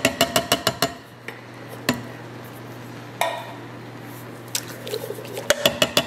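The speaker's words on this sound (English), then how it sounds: "I'm going to give that just a quick stir before adding in all of my beans and my diced tomatoes." Canned chili beans and black beans slide undrained into a pot with wet squelching glops, framed by quick rhythmic clanks at the start and end and a low steady hum between.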